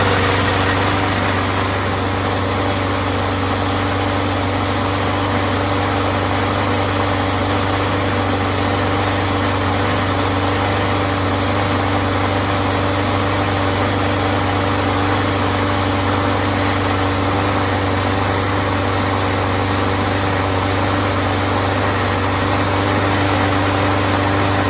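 A lawnmower engine idles steadily and close by, a constant low mechanical drone with a fixed hum that holds level from start to finish without any clear starting pull.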